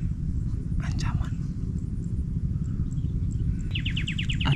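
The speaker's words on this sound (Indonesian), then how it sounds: "burung kemiri yang suara kayak tadi" Calls of a kemiri bird in Indonesian countryside: a short burst of chirps near the start and a rapid series of repeated high notes at the end, fairly faint over steady low rumbling background noise.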